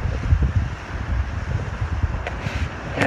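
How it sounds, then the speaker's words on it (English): Strong wind roars and buffets continuously at Celilo Park, with low rumbling gusts battering the microphone and a few brief higher hissing bursts near the end. "it's pretty windy"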